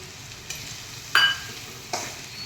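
Semolina being dry-roasted in a pan for upma, a soft steady hiss with a few sharp scraping stirs of the spoon standing out.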